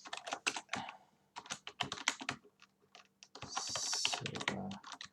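Typing on a computer keyboard: rapid, close clicks and clacks in uneven bursts, with a brief steady hiss partway through.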